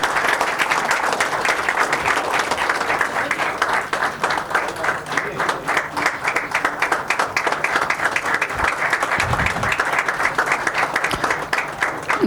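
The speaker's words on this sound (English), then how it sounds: "can we have a very big round of applause for them?" An audience at a tech-day awards event gives a long, sustained round of applause for a runners-up cricket league team, dense and even clapping, with voices faintly beneath it.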